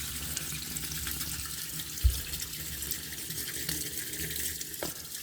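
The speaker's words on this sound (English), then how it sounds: "the water is coming out nicely with a nice flow right here" Tap water runs steadily into a freshly unclogged kitchen sink and down the drain, a continuous close splashing flow with a brief thump partway through.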